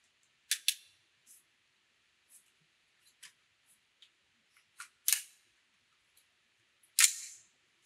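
Sharp, crisp clicks come from a rifle scope turret being adjusted. The clicks are spread irregularly, some single and some paired, close and distinct against silence.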